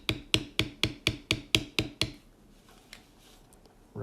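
A mallet strikes a beveling tool on tooled leather nine times in a quick, steady rhythm, close and crisp, then stops, leaving faint handling noise and no talk.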